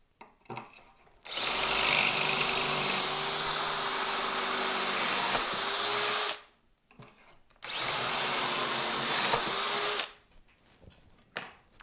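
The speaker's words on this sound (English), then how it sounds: "that drilled some nice pocket holes as well" A power drill bores pocket holes through a Milescraft PocketJig200 into wood, running in two loud sustained bursts of about five and two and a half seconds with a short pause between.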